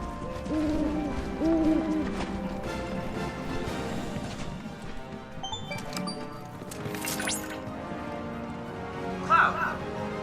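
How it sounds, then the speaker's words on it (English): Owl hooting in the video game Final Fantasy VII Rebirth, a couple of soft hoots rising over busy in-game ambience and music, with a voice talking throughout. "And there's one of those owl things leading me to the life spring."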